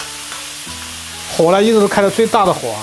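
Diced pork, with the lean pieces just added, is stir-fried in a wok over high heat. A steady sizzle runs beneath a person talking close by.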